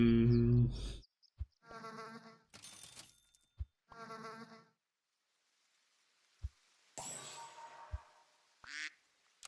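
Cartoonish game sounds from Super Auto Pets, including a duck quack, arrive as several short tonal blips and buzzy chirps separated by pauses, alongside sharp clicks and a closing swoosh.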